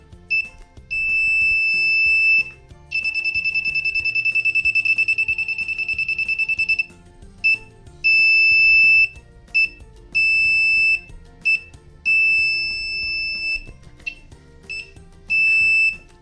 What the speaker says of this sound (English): I'm going to turn the buzzer back on now so you can just listen and try to see if you can notice the 3 different tones.